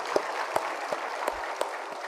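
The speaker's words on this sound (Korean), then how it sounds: "하나님께 감사의 박수를 드립니다." A church congregation claps in thanks during a Sunday service at a Full Gospel church in Jeonju. The steady, moderate applause fills the room, with a few sharper claps standing out. No voices are heard.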